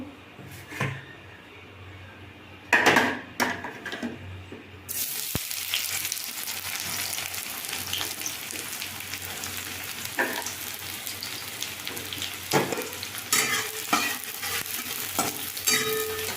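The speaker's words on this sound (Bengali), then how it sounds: "পেঁয়াজটা ভালো করে একটু ভেজে নেব" Onions go into hot oil in a wok and start sizzling steadily after a few scraping stirs, the frying hiss continuing close by with intermittent spatula scrapes.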